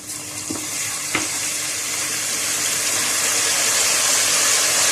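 A loud, steady sizzle from a hot pan that builds and intensifies as vinegar hits it, with a couple of soft clinks early on.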